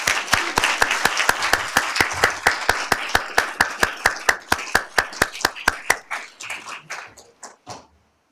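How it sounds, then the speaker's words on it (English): A small audience claps in unison for the panelists at the close of a program, sharp rhythmic synchronized beats that gradually slow and scatter into a few last claps before silence. "let's have a round of applause for our excellent panelists"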